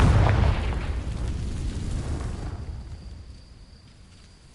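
A single heavy Confringo spell explosion from Hogwarts Legacy bursts at the start, then rolls off into a fading low rumble with a thin ringing tone trailing behind it.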